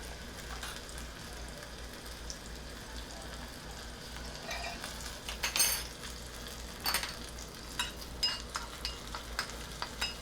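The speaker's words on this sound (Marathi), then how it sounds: "त्याच्यातच थोडंसं हिंग मुख्य खेच्याची फोडणी आहे आपली" Asafoetida and turmeric tempering sizzling in hot oil for thecha pav, a low steady fry with a few louder bursts and light metallic clinks of a spoon against the pan, no talking.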